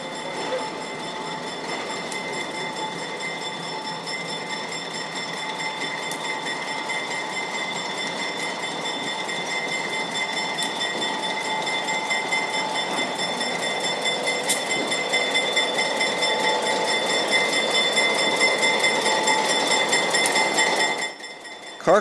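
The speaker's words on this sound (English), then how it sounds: "the train to Skagway leaves the siding and pulls into the depot" A White Pass & Yukon Route train to Skagway leaving the siding and pulling into the Carcross depot in Yukon, a steady rumble and rail hum that grows gradually louder and then cuts off abruptly near the end.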